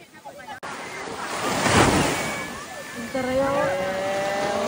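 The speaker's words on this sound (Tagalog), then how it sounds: "Ay, lakas ng alon, ang sarap!" Heavy surf roars and crashes up close, with wind buffeting the microphone and voices calling out as the wave rolls in.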